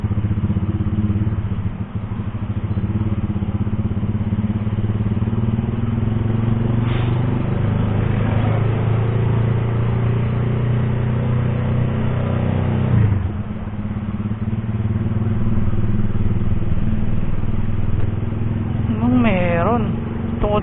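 Jammed road traffic of cars and motorcycles near Marcos Highway gives a constant low engine rumble with occasional revving, and faint voices surface now and then.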